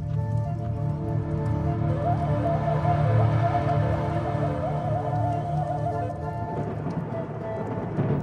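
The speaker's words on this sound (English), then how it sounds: "the promised rain arrives at last." Steady rain falls over a burned landscape in the wake of a wildfire, a dense continuous wash of sound with low rumbling beneath and no voices.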